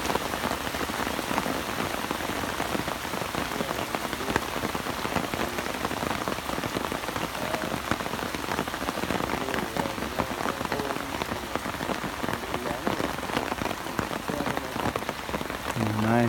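Heavy rain pours steadily over a long-abandoned fishing pond, a dense, loud, unbroken hiss of drops drumming on the surface with no letup.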